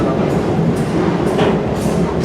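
A Shamokin Valley Lines excursion train rolls along with a steady low rumble and rhythmic clatter of wheels over the rails, heard from on board.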